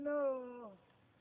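A single short, close meow with a falling pitch comes from a cat near a fishing spot, then fades into quiet background.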